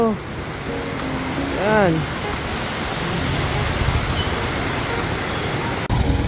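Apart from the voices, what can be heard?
heavy rain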